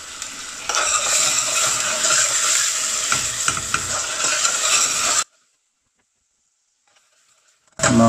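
Onion sizzling and frying in a pan with salt for chicken khichuri, a steady loud crackle with occasional stirring for about five seconds, then abrupt silence before the sizzle returns briefly at the end.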